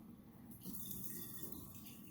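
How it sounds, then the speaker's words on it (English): Pineapple juice being poured out of a container of canned pineapple rings during cooking, a steady liquid splash and trickle starting about halfway through and continuing at moderate loudness, with no talking. "Let me pour out just a little bit of this juice here."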